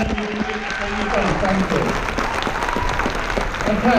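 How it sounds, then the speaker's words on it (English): A crowd claps loudly and continuously, a dense, even wash of applause with a few voices faintly mixed in. "Can you give these guys a massive clap?"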